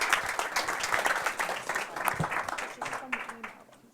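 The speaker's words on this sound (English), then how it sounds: "So let's give them a round of applause" Audience applause at a startup pitch battle event in London, a dense burst of clapping that swells, holds steady, then tapers off over a few seconds.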